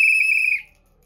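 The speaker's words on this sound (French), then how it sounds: "Sifflé." A single shrill, steady whistle blast, loud and clear, lasting about half a second before cutting off into near silence.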